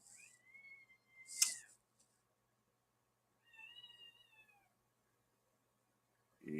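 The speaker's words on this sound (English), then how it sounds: "If you can hear the cats in the background." Cats meow in the background of a home recording, two drawn-out, rising-falling meows a couple of seconds apart with a sharp clatter between them, quiet and fairly distant, no talk over them.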